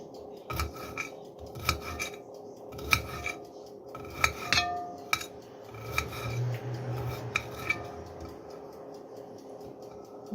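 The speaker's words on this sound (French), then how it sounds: "Je coupe bien en petits morceaux." A knife chops onion into small pieces on a cutting board for a vegetable couscous, giving a string of close, sharp taps in irregular bursts with brief pauses and light scraping between them.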